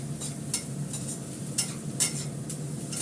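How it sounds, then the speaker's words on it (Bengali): Vegetables such as beans, carrot, green chilli and onion frying lightly in a pan, a soft sizzle under intermittent stirring and scraping clicks at irregular intervals; fairly quiet and close, with no talk. "হালকা করে ফ্রাই করে নেবো এটাকে।"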